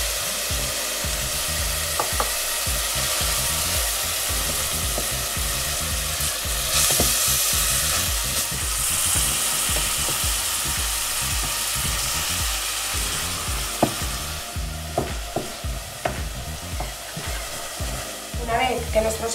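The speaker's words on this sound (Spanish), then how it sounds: "Una vez que está caliente, vamos a poner nuestra cebolla bien picada. Y los ajos bien laminados." Finely chopped onion and thinly sliced garlic frying in a hot pan produce a loud, continuous sizzle with stirring scrapes and occasional sharp clinks toward the end, with no talk.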